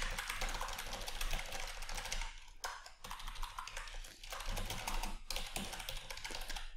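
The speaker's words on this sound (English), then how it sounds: "we'll type in some details" Rapid, continuous clatter of keys on a computer keyboard while details are entered into a PHP project, close and steady with a few short pauses.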